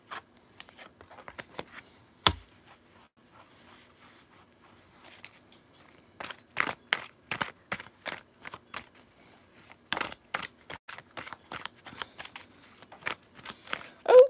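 Tarot cards riffle and slap together in quick irregular bursts, close and fairly quiet, with a sharp tap early on and denser shuffling later, no voice.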